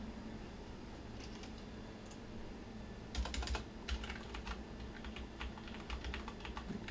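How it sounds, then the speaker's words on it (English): A computer keyboard plugged into a PS4 is typed on, quiet at first, then bursts of rapid, close key clicks in quick irregular runs. "So let's try plugging the keyboard in."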